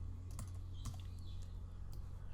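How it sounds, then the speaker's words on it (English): Several computer keyboard key presses, sharp and close, including a tap on the M key while making a selection in graphics software, set over a steady low hum with no talking. "Hitting M on the keyboard, I'll make a selection roughly across the top"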